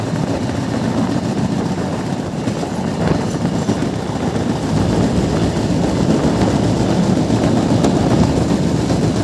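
The Madhumati Express passenger train, heard from on board on the Dhaka to Rajshahi line, gives a steady loud rumble with faint rhythmic clatter of wheels on rails, continuous and unbroken.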